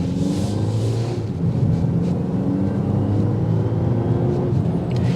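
Turbocharged engine of a 2024 BMW X1 xDrive28i or M35i under way, a steady low droning rumble with constant road noise throughout, no voices.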